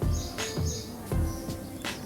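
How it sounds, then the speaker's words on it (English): Jungle birds call in a dense forest where owls, jungle fowl and oriental honey buzzards live. Loud, close chirps repeat about every 0.4 seconds in a steady rhythm over a low rumble. "We saw a couple of birds like owls, jungle fowl, and oriental honey buzzard"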